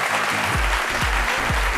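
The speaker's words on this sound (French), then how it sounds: "Merci de l'applaudir très très fort afin qu'il nous rejoigne sur ce plateau." Dense, steady applause from a studio audience on a TV talk-show set, loud and sustained throughout, with low thumping notes of music underneath.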